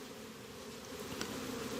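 Honeybees hum steadily around the queen inside a hive box, a soft, continuous close-up buzz with no voices.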